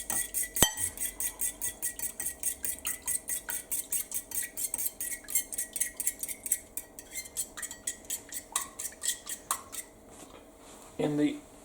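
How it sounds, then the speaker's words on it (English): A spoon stirs batter with milk in a bowl, tapping and clinking against the sides in a quick, regular rhythm for several seconds, close and clear, then slows and ends with a few louder knocks. "Stir all that up."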